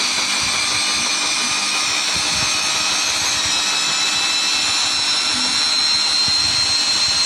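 A Samsung Ecobubble washing machine runs its spin cycle, a loud, steady high-speed whir with a hissing, rushing quality and faint low rumbling thuds, continuous for the whole stretch with no talking.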